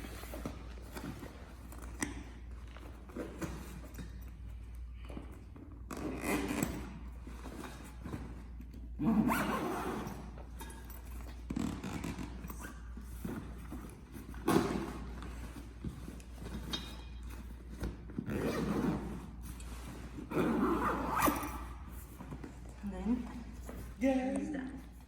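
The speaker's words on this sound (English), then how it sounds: "And then zip her up." A travel bag holding a portable dance pole is zipped closed, giving short raspy zipper pulls and rustling handling noises among quiet background hum, while a person talks intermittently.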